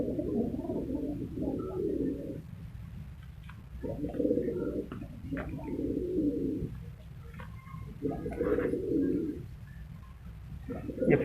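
A pair of black Peshawari pigeons at a pigeon farm in Multan coo repeatedly in soft, close, rolling phrases separated by short pauses, with faint background chirps.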